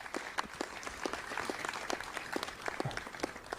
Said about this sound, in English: Get a huge round of applause